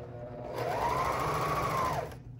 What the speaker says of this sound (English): you're just gonna sew over top of those threads